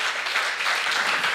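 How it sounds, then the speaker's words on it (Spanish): A church congregation applauds during a service, a steady wash of many hands clapping together that stays even and sustained from start to end. "dele palmas al Señor"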